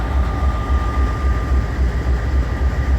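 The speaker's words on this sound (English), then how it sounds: "And look, we got another coal train." A coal train rolling past at close range, a steady loud rumble of wagons with rhythmic wheel clatter and a thin metallic squeal riding on top, with no voices.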